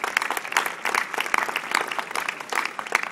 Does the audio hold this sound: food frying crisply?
no